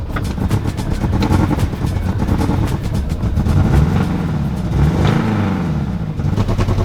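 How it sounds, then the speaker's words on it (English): Running close by, a Mini Cooper R50 engine idles roughly, its steady low drone broken by uneven surges and light clattering throughout. "Just gonna let it idle for a second."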